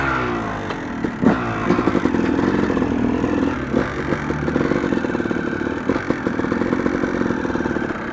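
A Yamaha YZ250 two-stroke motocross bike engine, already warmed up, revs loudly and continuously at close range, rising and falling in repeated throttle blips with rattling mechanical clatter throughout.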